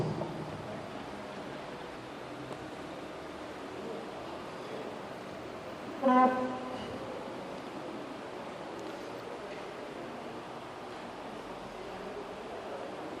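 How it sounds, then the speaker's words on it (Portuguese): Wind blows outdoors as a steady, fairly soft rushing noise across the whole stretch, with a brief tonal sound rising near the middle. "Vou só dar uma afastada aqui do vento."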